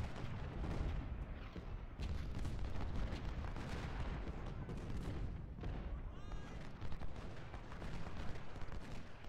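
Civil War artillery cannon fire in the Ultimate General: Civil War game, a dense, continuous barrage of booming shots and crackling musketry, faint overall.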